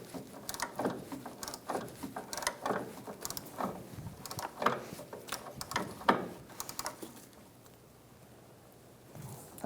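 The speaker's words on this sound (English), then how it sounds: "I'm going to use an 18mm socket to tighten and a 17mm wrench to hold it still." A ratchet with an 18mm socket tightens a front sway bar link nut on a 2014-2019 Kia Soul, giving a steady run of close, rapid clicking strokes that stop near the end.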